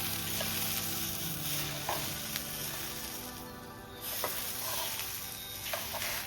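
A Malvani seven-layer ghavane, a rice crepe, cooks on a hot tawa over a gas flame with a steady, close sizzle and frying hiss and a few light clicks. No one speaks over it.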